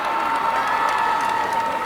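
A large crowd cheers and whoops at a Weslaco Lady Panthers softball team celebration, a dense steady roar of voices with scattered shouts throughout.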